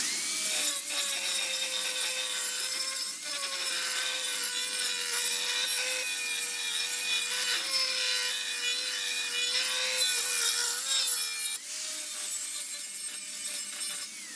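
A porcelain tile for a feature wall being trimmed with a power cutter, a steady high grinding whine that holds for long stretches with brief dips as the blade works along the edge.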